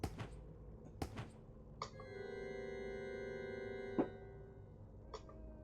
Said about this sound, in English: Sounds like there's a cat caught in there.